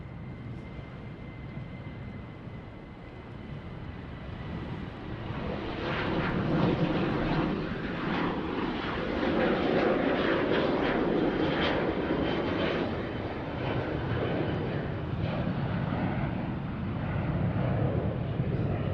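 An airliner, likely a Boeing 737, roars down the runway and climbs away from Sydney Airport, its engine noise swelling from a distant rumble to a loud, sustained broadband roar that holds steady to the end.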